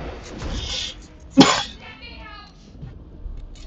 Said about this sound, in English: I apologize again about the cough.